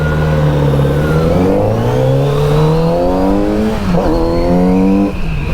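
A loud Kawasaki Z900RS motorcycle engine revs steadily upward for several seconds, its pitch climbing with a brief dip near the end, close and continuous with no voices.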